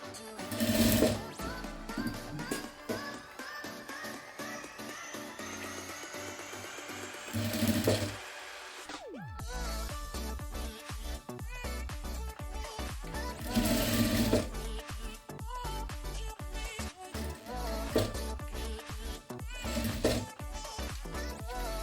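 A sewing machine stitches a jute placemat in a steady rapid whirring run, close by, with a few brief pauses and surges and a short reverse stitch near the end.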